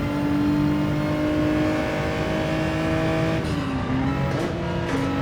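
A car engine held at the very top of its rev range, a loud sustained high-pitched drone with steady harmonics that wavers and dips briefly near the end, with no talk over it.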